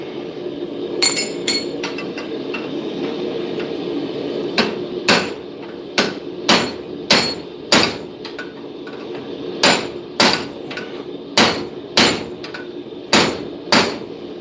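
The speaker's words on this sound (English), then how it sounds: "This vice is not built to deal with my hammer blows." Sharp, ringing hammer strikes land on metal clamped in a vice at a blacksmith's forge, about a dozen loud blows in an uneven rhythm with short gaps, each with a bright metallic clink over a steady low background hum.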